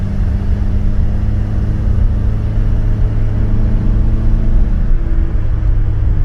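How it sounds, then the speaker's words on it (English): A small classic Fiat car engine buzzing steadily at constant revs in third gear, a continuous close drone with low rumble and no change in pitch. "I don't know if you can hear the engine buzzing away"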